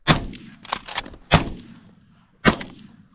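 Shotgun blasts fired at a goose during an early-season goose hunt outdoors: three loud, sharp reports, two close together and a third after a pause, each trailing off quickly.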